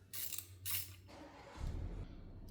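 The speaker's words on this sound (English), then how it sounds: "using my ratchet, I'm going to remove this 8mm bolt right here" Ratchet loosening an 8mm bolt on a 1.3L turbo Buick Encore GX, with two short bursts of bright clicking close by, followed by quieter mechanical handling noise.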